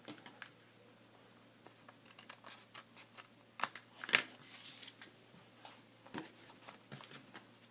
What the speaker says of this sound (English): I'm going to cut off the little strips.